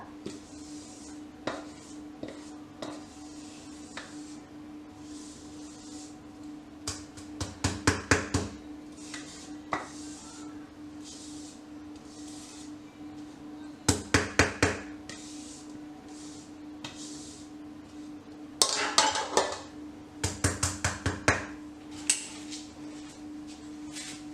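A cake pan for almond batter is handled on a kitchen counter, with soft rubbing and a few bursts of quick tapping knocks against the surface over a low steady hum.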